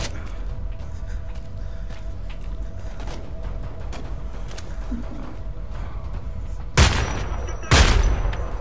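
Gunfire in the Xbox One beta of the game Homefront: The Revolution: two heavy, booming shots land close together near the end, after a stretch of low rumbling game ambience.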